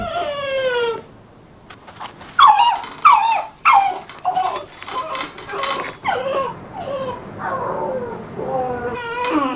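Young puppy whining and crying while left to sleep alone at night, a run of high, wavering whimpers and yelps in bursts with short pauses, close and loud.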